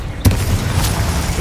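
The fire spell Incendio is cast in the Hogwarts Legacy video game: a sudden loud boom hits, then a dense roaring rush of flame lingers, close and heavy, with no voices over it.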